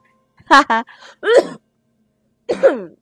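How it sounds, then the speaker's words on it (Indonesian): A couple of short throat-clearing coughs close to a headset mic, followed by brief voiced sounds and a pause, then another rough burst. "Termasuk ada batuk-batuknya dikit gitu."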